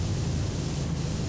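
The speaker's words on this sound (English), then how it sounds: "Just some deodorant for later. Spray it on." A can of deodorant sprays in Powerwash Simulator, one steady close hiss of aerosol lasting just over a second, with no voices over it.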